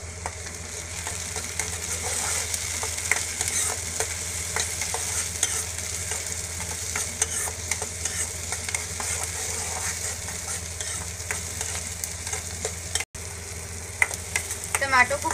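Tomatoes sauté in a pan for Bombay Maggi with a constant crackling sizzle. Repeated stirring scrapes and light clinks of a spatula against the pan run through it.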